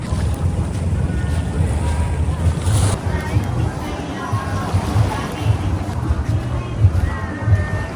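Calm sea waves wash gently at Alona Beach in Bohol, a steady soft surf with wind noise on the microphone and a faint low engine hum that may be a boat.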